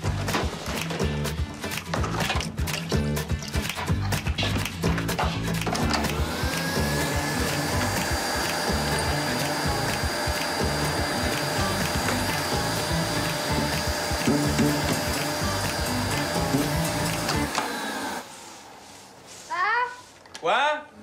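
A household vacuum cleaner runs steadily in a bedroom for most of the stretch, a continuous whine under music and talk, then cuts out abruptly near the end, leaving brief speech.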